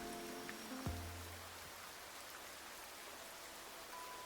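Steady rain falling, a soft continuous hiss of drops with a brief low thud near the start, even and fairly quiet throughout.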